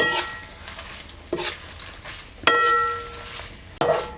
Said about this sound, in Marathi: ह्यामध्ये आपण हे तमालपत्रसुद्धा परतून घेऊया